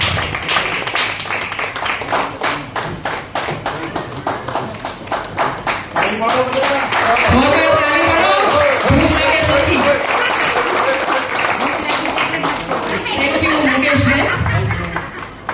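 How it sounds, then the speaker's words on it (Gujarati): Live crowd at a family honour event in Gujarat applauding as a singer is called onto the stage, dense clapping swelling and holding steady for several seconds, with cheering voices and background chatter mixed in. "જોરદાર તાળીઓથી મુકેશભાઈને વધાવી લઈશું"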